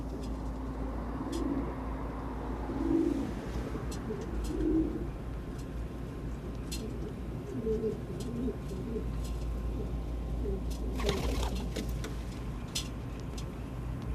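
Rock pigeons (Columba livia) give soft, low, repeated coos at a moderate distance, with several clear calls early on and a few faint clicks and rustles in steady outdoor ambience.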